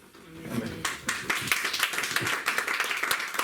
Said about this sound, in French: C'est la partie où on doit acclamer l'Éternel Dieu.